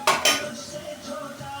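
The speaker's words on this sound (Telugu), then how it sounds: "So egg పలగొట్టేస్తున్నాను." An egg being cracked for a tomato egg curry: two sharp close taps against a pan rim, followed by a faint ringing tail and quiet room sound.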